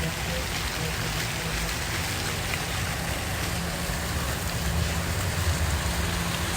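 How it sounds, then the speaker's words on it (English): Rain falling outdoors in Palm Beach, a steady dense hiss of drops spread evenly throughout, with a low rumble underneath. "Today is a little bit kind of I guess like raining"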